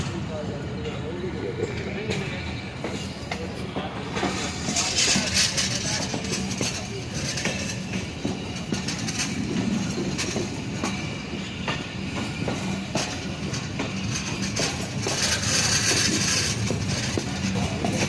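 The Musa Pak Express passenger train runs between Khanewal and Lahore with continuous rhythmic clickety-clack of wheels over rail joints, a rumbling carriage and occasional squeals, heard from inside.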